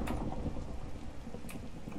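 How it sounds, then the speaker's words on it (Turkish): A lightning strike and thunder sound in the rain in Minecraft: a steady patter of rain under a low, rolling rumble, with a couple of sharper cracks cutting through. "Şimşek düştü."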